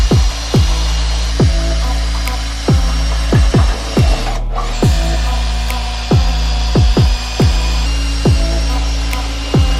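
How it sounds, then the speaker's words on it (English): A power drill bores hood pin holes in the hood of a 1990 Honda Civic Si, giving a steady motor hum with sharp ticks in a quick rhythm and a short break midway. "I just gotta go grab this drill and then we can drill them out"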